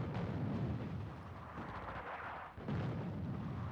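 Anti-tank guns firing in the North Africa war game Attack At Dawn: a dense, continuous rumble of booming artillery-like blasts with a brief dip before the barrage resumes.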